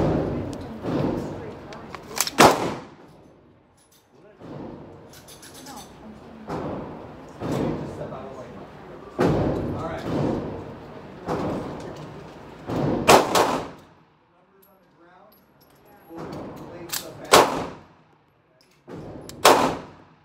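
A Glock pistol fires at a shooting range: sharp, loud single shots come at irregular intervals, with someone talking between them.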